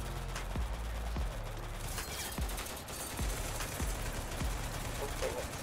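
Gunfire in Total Conflict: Resistance crackles in a steady string of separate shots about half a second apart, over a constant noisy battle background.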